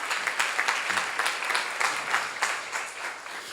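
A church congregation at a Korean seminar claps together, a full, sustained burst of applause that pulses slightly in strength and runs the whole time.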